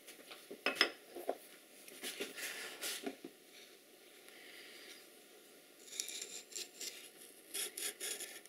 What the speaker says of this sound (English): So I'm going to need a chisel